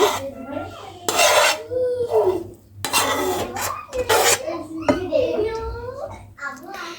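A spoon scrapes and clinks against a bowl while beetroot is stirred into whisked yogurt for a salad, in uneven bursts of clatter and rasping strokes, with someone talking over it.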